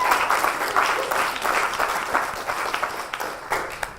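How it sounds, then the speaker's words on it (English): Audience applause fills a studio at a late-night talk show taping, a steady wash of many clapping hands held at an even level throughout. "give a big round of applause to the guys behind the cameras"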